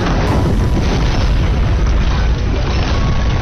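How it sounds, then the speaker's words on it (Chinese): A gasoline-soaked house explodes in a dramatic film scene, a loud, sustained roaring blast that fills the full three seconds with deep rumbling. "所有的犯罪痕迹都在这声爆炸中烟消云散"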